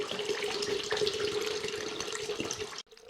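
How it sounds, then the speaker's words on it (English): Coconut water pours steadily into a mead fermenter, a continuous close gurgling stream that runs for nearly three seconds before cutting off abruptly. "So we'll go ahead and put 1 liter of coconut milk in here."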